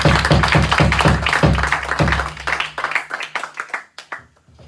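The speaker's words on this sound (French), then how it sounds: "On acclame encore pour le Seigneur." A church congregation claps in rhythmic bursts, loud and close at first, then the claps thin out and fade to a few scattered taps.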